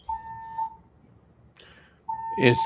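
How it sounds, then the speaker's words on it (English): A fire alarm sounds in two long, steady electronic tones, each lasting about half a second, separated by a quieter stretch with some brief noise. Voices are heard faintly in the background. "Apparently, we have a fire alarm going on."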